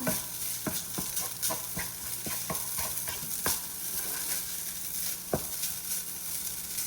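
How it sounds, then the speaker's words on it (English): Vegetables stir-frying in a pan for vegan pancit sizzle steadily up close, broken by repeated sharp clacks and scrapes of a utensil tossing them, with no talking. "Remember, we fry all of them for"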